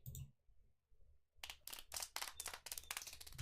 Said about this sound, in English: Dr. Nakbani enters to sparse applause.